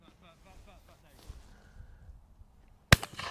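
A single sharp gunshot on a pheasant shoot in Suffolk, one loud crack near the end after quiet outdoor murmuring and faint voices in the background.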